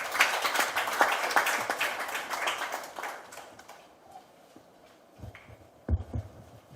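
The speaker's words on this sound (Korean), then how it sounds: "박수로 맞아주시기 바랍니다" An indoor audience at a Korean public briefing gives a burst of applause that tapers off after a few seconds, followed by faint room noise and a couple of thumps.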